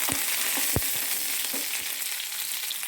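Chopped shallots frying in hot oil, a steady close sizzle with a few soft knocks of stirring.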